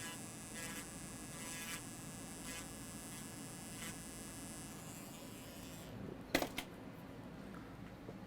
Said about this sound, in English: we're going to grind this one right here